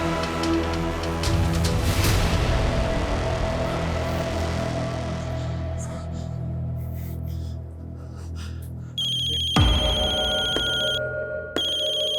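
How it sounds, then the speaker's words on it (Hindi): A telephone ringtone chimes repeatedly near the end, a bright electronic ring cutting in after a stretch of louder, busy background sound. "किसका फोन है"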